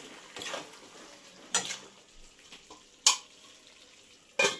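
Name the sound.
sautéing chicken curry with salt in a pot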